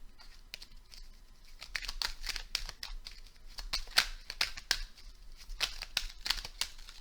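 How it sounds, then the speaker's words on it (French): Tarot cards being drawn and handled at a reading, close crisp rustling and papery snaps in irregular bursts, quiet and intimate with no speech. "On va aller récupérer une ou deux cartes encore pour vous."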